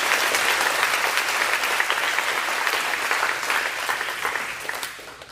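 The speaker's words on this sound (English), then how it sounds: "Did we clap for him today?" An audience at a school athletic banquet claps in a sustained, even burst of applause that tapers off near the end.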